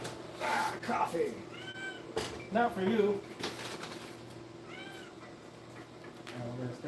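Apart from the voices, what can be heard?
pet cats meowing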